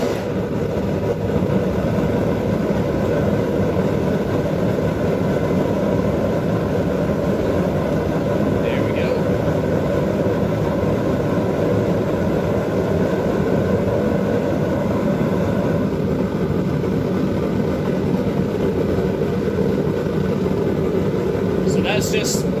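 A single-burner Hell's Forge propane forge runs with a steady, loud roar and hiss that holds unbroken throughout, with a couple of faint high clinks partway through.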